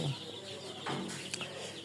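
Chickens on a small poultry farm, resting together in a tight group, give soft, low clucks and murmurs against a steady background hum, with a slightly louder burst of fowl noise about midway.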